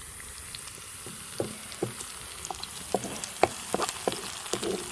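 A soft, steady sizzle of purslane and plenty of onions frying in a pan, with scattered pops and crackles and a few quiet stirring clicks.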